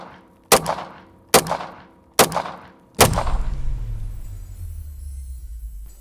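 Four sharp gunshots strike Ballistic 3A armored glass on a Tesla Cybertruck, three evenly spaced loud cracks followed by a fourth with a long rumbling tail and lingering noise.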